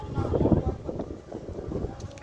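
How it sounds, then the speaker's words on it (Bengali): Strong gusty wind buffets the microphone near the Hooghly river as a storm gathers, with a tornado reported nearby; a loud, continuous low rumble surges and eases without a break. "প্রচুর জোরে হাওয়া দিচ্ছে, খুবই প্রচুর জোরে হাওয়া দিচ্ছে।"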